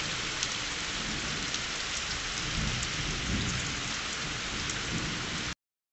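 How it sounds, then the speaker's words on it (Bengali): Heavy rain pours down in a dense, steady hiss with thunder rumbling low beneath it. The downpour stays constant and loud until it cuts off abruptly near the end. "বুঝতে পারিনি যে এত জোরে বৃষ্টি হবে"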